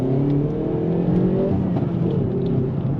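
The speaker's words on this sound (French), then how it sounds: "On a un claquement lorsqu'on passe le rapport" Hyundai i30N Performance with a 275-horsepower engine revving steadily and close, a continuous throaty rumble with rising whir and no clear separate crack on the gear shift.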